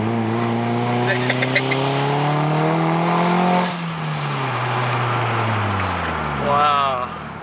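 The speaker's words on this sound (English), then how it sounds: "The blow-off valve is pretty loud, man." A Nissan S14 240SX with a turbocharged SR20DET engine running about 12 psi of boost revs hard, the pitch climbing and falling, with a sharp blow-off valve hiss between revs; loud and close, with voices in the car over the engine.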